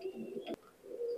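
A high flyer pigeon in Bangladesh gives a few low, fairly quiet coos, broken by a brief sharp knock midway, then resumes its soft throaty murmur.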